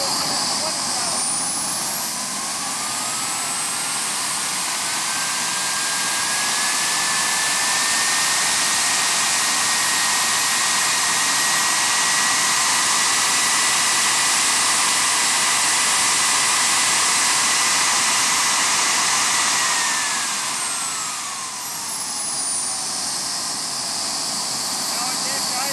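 A Kangaroo model jet turbine engine spooling up to full throttle, a loud, steady high-pitched whine and roar that rises in pitch and later winds back down.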